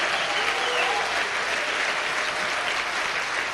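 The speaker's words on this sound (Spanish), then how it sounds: "Dale un aplauso más fuerte al Señor" Church congregation at Iglesia Nueva Vida applauds the Lord in a continuous, even wash of clapping that holds steady from start to finish, moderately loud and unbroken.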